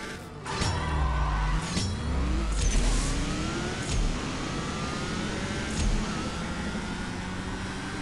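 Car engines in the CSR 2 racing game rev and shift repeatedly, rising pitch sweeps climbing and dropping through several gear changes, loud and alone with sharp clicks between shifts.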